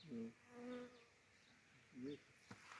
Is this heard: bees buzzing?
yes